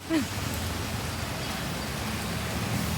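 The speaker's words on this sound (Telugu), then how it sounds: "వర్షం చూపిస్తాను చూడండి." Steady rain falls on a street shopping area in Malleswaram, Bangalore, a continuous broadband patter that fills the whole stretch at an even level, with a brief faint voice near the start.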